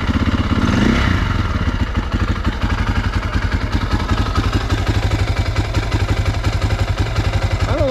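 A 2004 KTM 250 EXC-F dirt bike engine idling steadily while warming up with the choke just turned off, a close, continuous, even four-stroke putter that holds at constant loudness throughout.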